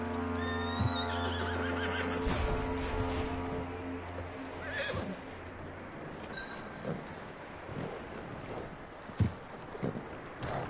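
Horse in Red Dead Redemption 2 whinnies loudly near the start, then hooves clop irregularly over a busy game ambience with wind and scattered knocks.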